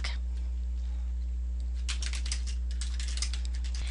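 Keys on a computer keyboard clatter in quick, uneven bursts as an email subject line is typed, starting about halfway through over a steady electrical hum.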